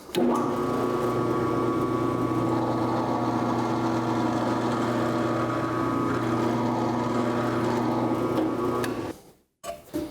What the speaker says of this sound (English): you chuck up a bit and you drill a hole and just see what happens